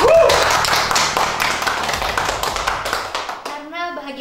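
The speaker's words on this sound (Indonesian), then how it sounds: "Tepuk tangan buat Nabila." Hands clapping close by in a small group, quick irregular taps for a few seconds on an Indonesian entertainment show, with talk and a short musical tone near the end.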